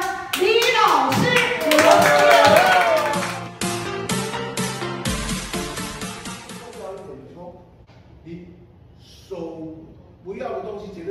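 A burst of audience applause welcoming a teacher at a host and speaker training class, quick clapping following a voice speaking, then fading into quieter talk.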